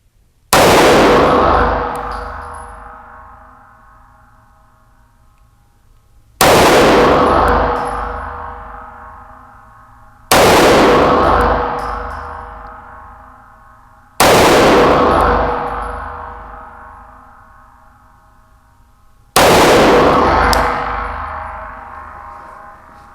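Five loud Staccato CS pistol shots spaced a few seconds apart on a range, each a sharp crack followed by a long ringing decay.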